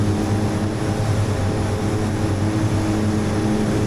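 A de Havilland Twin Otter propeller plane in the FSX flight simulator rolling for takeoff, a loud steady engine drone with a constant propeller hum and no pauses.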